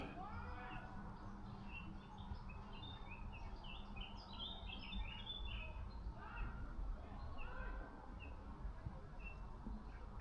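Countryside birds singing on a morning walk among bluebells, several chirps and short warbling phrases at middling distance over a low steady outdoor rumble, fairly faint.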